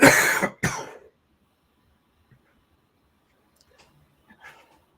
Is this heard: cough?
yes